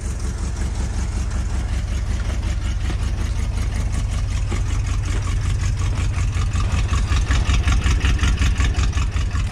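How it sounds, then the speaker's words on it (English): A Ford high-boy truck engine idles after a cold start, a steady, loud low rumble with even pulsing throughout, no voices. "Started right up though, and she idles good."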